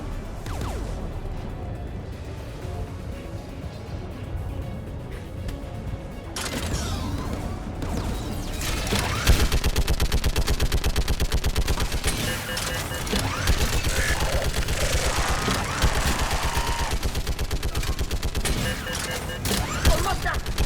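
A large gun firing in the Mass Effect 3 video game, a dense, loud rapid barrage of blasts that builds and keeps pounding, with voices talking over the din.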